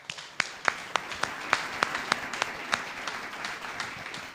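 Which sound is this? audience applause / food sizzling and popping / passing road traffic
audience applause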